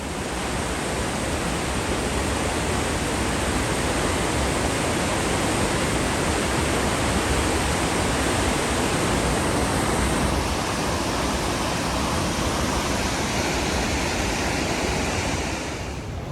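Steady, dense rushing of flowing water fills the whole stretch, a broad continuous roar with no breaks, close and loud.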